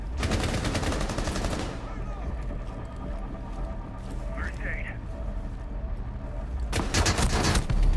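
Rapid automatic gunfire in Rainbow Six Siege, loud and dense, coming in sustained bursts that ease off in the middle and then return, with players talking over it.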